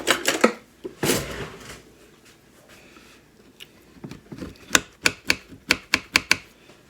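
A knife slices through a warm, freshly baked old-fashioned cinnamon bun, giving a run of crisp, close cutting taps that get sharper and more regular toward the end, with a few softer scrapes before them.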